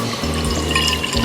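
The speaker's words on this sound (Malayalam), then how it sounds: "ഇനി നമുക്ക് ഇതിലേക്ക് 1 കപ്പ് വിസ്കി ചേർക്കണം." A cup of whisky is poured into a mixer-grinder bowl that already holds condensed milk, making homemade Irish cream: a short, steady liquid pour lasting just over a second, close and fairly loud.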